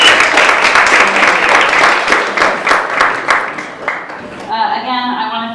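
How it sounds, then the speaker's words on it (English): A crowd applauds with dense, steady clapping for several seconds, then it fades as music begins at the end. "we can give another round of applause for all of our students participating."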